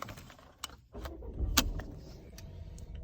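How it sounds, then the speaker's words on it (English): A Volvo S90 car starting: a brief key or button click and a starter burst, then a low idle hum settling in close up, with faint clicks over it. "So put our foot on the brake"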